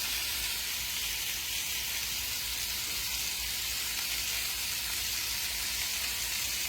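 Hamburger patties fry in olive oil in a pan, giving a steady, close, dense sizzle that holds evenly throughout with no talk over it.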